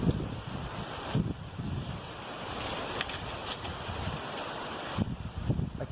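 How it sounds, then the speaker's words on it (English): Strong wind roars steadily into the microphone outdoors near the ocean, with gusty buffeting bursts and a low rumble throughout. "That wind is crazy."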